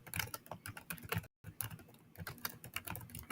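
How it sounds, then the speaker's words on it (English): Fast, close typing on a Chromebook keyboard, with dense clicking keystrokes that pause once briefly before carrying on, and no voice. "so type in that sentence"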